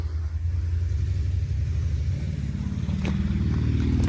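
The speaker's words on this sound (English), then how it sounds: "Oh no! It's a plow truck." A plow truck's engine gives a loud, close, steady low rumble that grows slightly heavier toward the end, with no speech over it.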